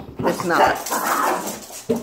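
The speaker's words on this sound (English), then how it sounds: "That is my dog again." A pet dog barks and whimpers in short, whiny yelps while scuffling with a house cat indoors, close by, with a person speaking over it.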